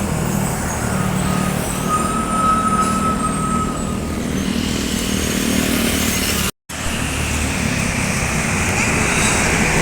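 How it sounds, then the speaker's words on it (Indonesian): Unnamed intercity bus passing on a Trans-Sumatra highway toward Padang one morning, a loud sustained rumble of engine and tyre roar with a brief whine, close by and steady, followed by a short cut and continuing traffic noise. "Bus tanpa nama melintas menuju Padang"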